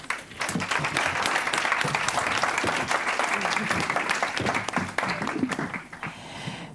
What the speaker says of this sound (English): So give them a hand of applause.